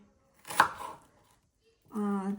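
Knife chopping vegetables for Thai green curry on a cutting board, a single close sharp cut followed by a pause, then a voice speaking briefly.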